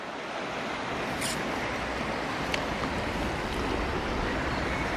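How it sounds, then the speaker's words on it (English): Steady broadband rush of running water in a shallow, constant and close with no talk over it, a few faint clicks standing out. "Running water."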